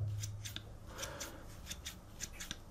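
Felco 6 pruning shears with forged aluminium handles snap shut repeatedly, each close softened by a rubber bumper and washer, producing quick crisp clicks in a steady rhythm, close and fairly quiet.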